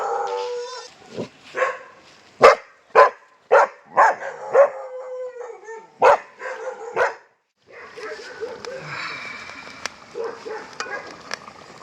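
A dog barks repeatedly in a quick, loud series of sharp yelps, then quieter barks continue amid background voices and outdoor noise.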